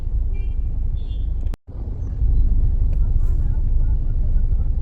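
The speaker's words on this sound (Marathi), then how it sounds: "तुम्ही बघू शकता फुल जाम आहे फुल जाम रोड आहे इथेही जाम आहे" Traffic stands jammed on a busy road, a low, continuous engine rumble of idling vehicles with a faint horn-like tone early on and a short break before the rumble swells again.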